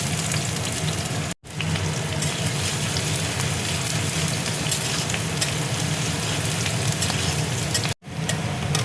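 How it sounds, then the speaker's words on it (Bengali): Chopped onions frying in hot mustard oil in a wok, a loud, dense, continuous sizzle close up that cuts out briefly twice, with no voices. "পেঁয়াজটা দেখো লাল করে ভেজে নেবো।"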